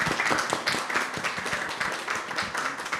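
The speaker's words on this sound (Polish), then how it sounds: "brawa dla Państwa" Audience clapping at the close of an exhibition event, a brisk, continuous patter of many hands heard nearby throughout.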